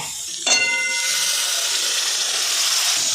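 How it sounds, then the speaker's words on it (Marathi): A sudden loud hiss as water is poured into black masala curry cooking in a hot pan, a sharp clang followed by a steady, close sizzle that continues to the end, with no voices. "थोडंसं पाणी घालून त्या मसाल्यामध्ये घालून द्या"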